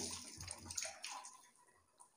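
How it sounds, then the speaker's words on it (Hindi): Water poured over the head and body during a ritual bath (ghusl), splashing and running off in irregular gushes, fairly close and moderately loud, with no talking. "तीन बार आपको सर पर पानी बहाना है अच्छे से जिसम को रगड़ते हुए देखिए ये अच्छे से बहा लें पानी को"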